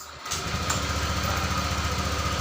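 A motorcycle fitted with a remote-control anti-theft alarm is started with the electric starter; after a brief click the engine catches and runs at a steady, rough idle close by.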